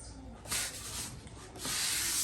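An LG five-burner stove is slid into a tight space, making two long, close scraping and rubbing surges as it moves, with a brief pause between them.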